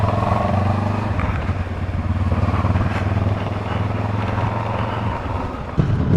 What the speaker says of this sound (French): le poum-poum du moteur n'est pas désagréable